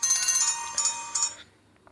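A ringtone from a 2012 Sony Xperia Go smartphone plays a bright, bell-like chiming melody in repeated rhythmic bursts, loud and close, then stops and leaves near silence with a faint click.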